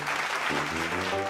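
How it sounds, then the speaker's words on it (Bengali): An audience at a village dance audition claps after a dance performance, a brief, dense burst of applause that stays steady throughout. "করতালি।"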